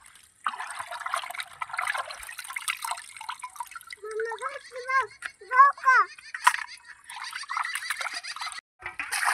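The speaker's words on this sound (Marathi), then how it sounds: "आता अजून एक पाण्याने आपल्याला हे धुवून घ्यायचे आहेत मासे." Catla fish are rinsed in a container of water in a home kitchen, with soft splashing, dripping and sloshing at close range, quiet overall, with a brief squeaky sound in the middle.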